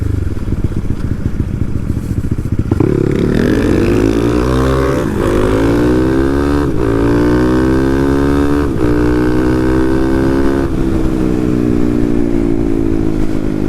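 A 250cc Honda Monkey motorcycle raced hard, its engine loud and close as it revs up through rising gear pulls, with several brief shift dips, sustained throughout.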